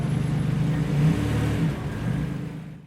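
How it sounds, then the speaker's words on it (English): Car engines rev at a large car meet, a steady low rumble swelling twice with mid-range revving, fairly close, with no talking over it. "It's a really big car meet."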